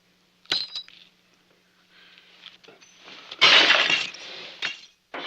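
Drinking glasses smash after a toast in a mess: a sharp crash early on, then a scatter of tinkling shards and a louder, longer burst of breaking glass, with no talk over it.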